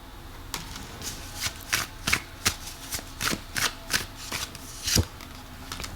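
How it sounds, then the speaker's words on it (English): A deck of oracle cards is shuffled up close, giving a series of about ten crisp riffling bursts at a fairly regular rhythm with brief pauses between them. "I do want to pull some oracle cards here"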